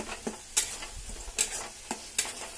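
Masala paste for an aloo soya chunks curry fries in a pan with a soft sizzle, broken by four or five sharp scraping stirs spaced about a second apart, close and fairly quiet with no voices.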